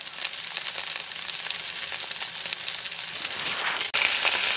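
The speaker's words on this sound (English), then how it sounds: "Got them sizzling away nicely." Hot dogs sizzle steadily in a pan over an outdoor camp stove in winter Norway at minus 13 degrees, a loud continuous crackling frying hiss close to the microphone.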